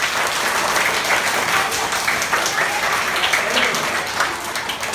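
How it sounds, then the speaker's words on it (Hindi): A class 4 group of schoolchildren claps in a classroom, with dense, sustained applause throughout and faint voices underneath. "चलो थैंक यू, ताली बजाओ।"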